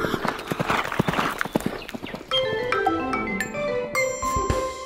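A grey horse's hooves clip-clop in a quick rhythmic gallop under a children's nursery song, with music and singing carrying over the steady beat.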